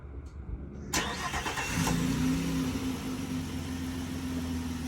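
A 2022 Nissan Frontier with the 3.8 engine is remote-started from the key fob. After a quiet start there is a sharp catch as the starter engages, then the engine settles into a steady, close, even idle hum.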